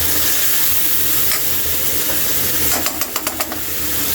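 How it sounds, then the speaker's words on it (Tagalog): Chicken frying in a pan, a loud, steady sizzle and hiss up close, broken near the end by a quick run of sharp scraping clicks as the food is stirred. "Ikot lang natin yan."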